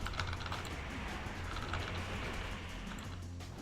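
Rapid, steady keyboard typing during a World of Warcraft game session, a continuous clatter of keystrokes with a faint game soundscape underneath and no voices.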